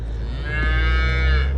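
A young bull calf lets out a single drawn-out moo, close and loud, rising into a strained bellow over a low background rumble, as cattle are moved.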